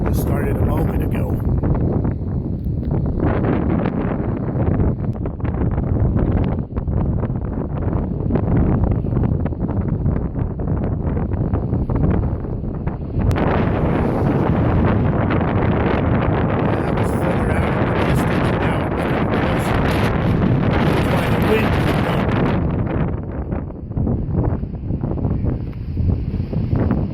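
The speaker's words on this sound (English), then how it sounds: "Started getting windy, so the weather's supposed to pick up." Strong wind buffets the microphone outdoors near the Platte River in Nebraska, a loud, rumbling roar that surges and eases, with someone talking over it.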